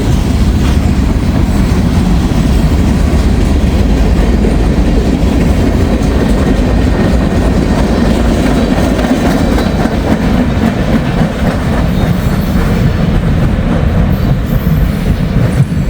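Freight train passing a crossing, its end rolling by northbound: a loud, steady rumble of wheels with continuous clatter and faint squeal, close and unbroken throughout, with no voices.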